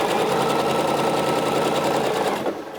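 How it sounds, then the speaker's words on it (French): A sewing machine runs steadily for nearly three seconds, stitching the first pass of a French seam 1 cm from the fabric edge along a blouse sleeve, with a fast continuous mechanical whir that eases off at the very end. "je passe maintenant à la machine pour piquer à 1 cm du bord sa première couture des coutures anglaises"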